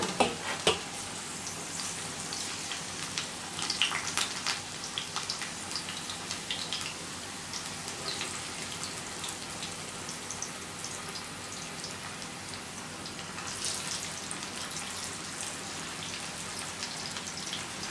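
Potato and onion pakoda balls sizzle and crackle steadily in hot oil over high flame, a dense close frying hiss with scattered popping bursts and no voices.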